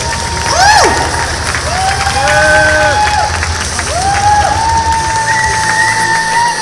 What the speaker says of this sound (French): Ah mais faut applaudir plus que ça hein.